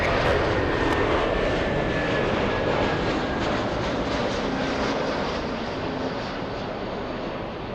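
An airliner taking off from runway 24 left at Los Angeles International Airport gives a steady, loud, broadband jet engine roar that holds throughout with a slight fade near the end, and no voices are heard.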